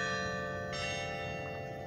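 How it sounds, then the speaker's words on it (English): A single church bell tolls once, its ringing tone sustained and slowly decaying, fairly loud and alone without talk. "the bell tolls."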